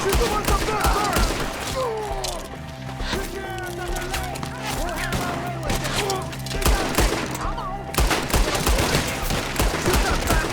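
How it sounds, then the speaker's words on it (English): Sustained gunfire from a Red Dead Redemption 2 shootout against the Skinner Brothers, with rapid repeated shots and overlapping volleys throughout, accompanied by a game music score and shouted voices of characters in the fight. "Shoot the ones up there first!"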